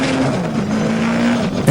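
A Mitsubishi Lancer Evolution race car at full speed on a circuit during a timed shootout, its engine a loud, steady, sustained roar with a held tone and no break.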